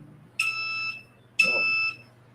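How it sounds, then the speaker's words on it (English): Two sharp, high electronic beeps from a phone's blood sugar alert, each lasting about half a second with a short pause between, sounding close and clear over quiet background. "my phone is beeping at me again because my blood sugar."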